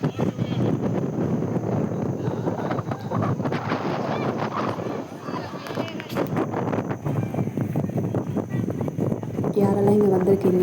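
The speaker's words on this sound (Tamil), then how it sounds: "ரொம்ப காற்று அதிகமாக இருந்துச்சு." Strong wind at a beach in Pondicherry buffets the microphone in a continuous, gusty roar, with no clear voices over it.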